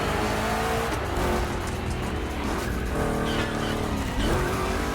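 Two big-block Chevy cars drifting in a gymkhana event, a loud continuous engine roar with rising and falling revs and tire squeal as they slide through turns.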